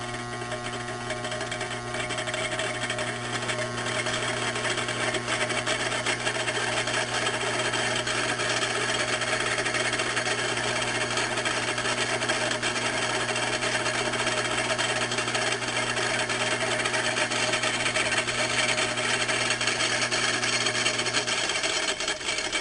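A homemade three-phase AC motor with a second rotor fitted runs steadily, giving a continuous whirring hum with a buzzing, rattly mechanical texture, noisy and constant, that drops away slightly near the end.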